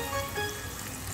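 Chicken liver hitting hot spiced oil in a pan during a Bengali kolija bhuna, a dense steady sizzle that fills the short moment, close and continuous.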